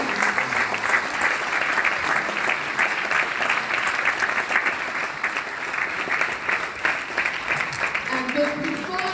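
Audience applause at a Cameroonian chiefdoms fashion parade in Paris, sustained dense clapping from a crowd with faint musical tones and voices mixed underneath.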